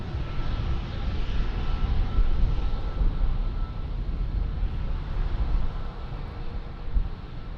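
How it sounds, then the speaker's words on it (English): An airliner landing at Lisbon Airport gives a steady, broad roar of jet engines and rushing air, loud and continuous for several seconds with no voices. "What a landing"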